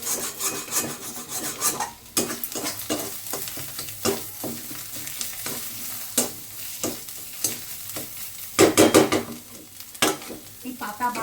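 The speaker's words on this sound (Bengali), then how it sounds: "এটা কিন্তু এখনো আমি টালছি, মোটামুটি অনেকটাই হয়ে গেছে। গ্যাসটা কমিয়ে টালছি বলে একটু সময় নিচ্ছে।" A pan of mashed or bhorta-style food is stirred and dry-roasted over low-to-medium gas, scraping spatula strokes in an uneven rhythm over a soft sizzle, with a louder cluster of scrapes near the end, close and without speech.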